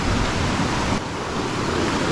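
River water rushes over stones in Dominica, a steady, loud broadband wash that stays close and constant throughout.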